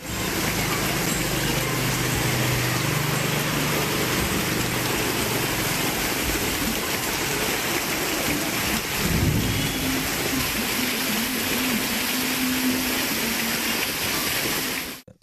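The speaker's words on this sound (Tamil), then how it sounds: "சுமார் அரை மணி நேரம் மிதமான சாரல் மழை பெய்தது" Moderate drizzling rain falls over the Virudhunagar area of Tamil Nadu, a steady, dense broadband hiss that holds evenly for the whole stretch with no voices.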